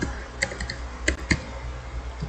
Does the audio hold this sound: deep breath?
no